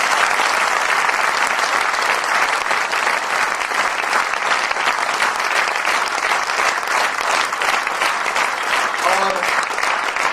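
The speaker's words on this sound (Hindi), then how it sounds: "जोरदार तालियां।" Loud, sustained applause from an audience at a motivational training workshop, dense continuous clapping that carries on without a break for about ten seconds.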